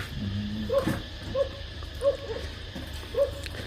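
A dog barks at a distance in short single yaps spaced roughly every second, four in all, faint against a steady outdoor background hum.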